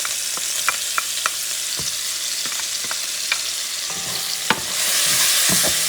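Peppers and onions for a Puerto Rican sofrito sizzle steadily in a pot while being stirred, with a continuous close frying hiss and repeated sharp scraping clicks from the spoon.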